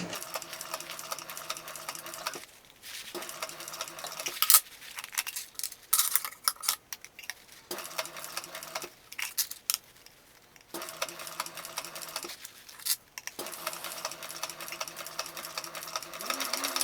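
A sewing machine stitches a backpack pocket in a quiet room, running in bursts of rapid close mechanical whirring with short pauses between them as the fabric is repositioned.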